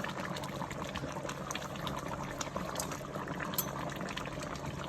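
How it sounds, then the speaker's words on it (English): Brown stew chicken simmering in a pot, a faint steady bubbling and gurgling of liquid that continues evenly throughout, quiet and close. "Let that keep on simmering"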